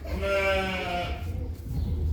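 A goat at an agricultural farm park gives one drawn-out, wavering bleat lasting about a second, fairly close. Low outdoor rumble and faint background noise follow.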